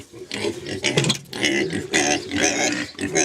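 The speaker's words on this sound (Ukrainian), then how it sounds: "И писк стоит такой. Свиньи свистять." Pigs grunting and squealing in a dense, continuous chorus, loud and close, with overlapping shrill cries and no pauses.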